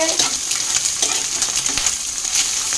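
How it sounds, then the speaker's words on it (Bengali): Tomatoes added to a beaten egg mixture fry together in a pan, a steady close sizzle broken by frequent scrapes and stirs of a spoon throughout. "তো দেখো এই যে এর মধ্যে টমেটোও দিয়ে দিয়েছি, একসাথে সমস্ত কিছু ভালো করে ভেজে নিচ্ছি"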